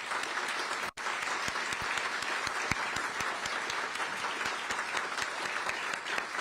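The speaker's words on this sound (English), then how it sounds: "I just want to make sure that we all give them a massive round of applause" Sustained applause from a crowd at a regional economic alliance launch event, a thick, continuous roar of clapping hands with scattered louder claps standing out, after one brief dip near the start.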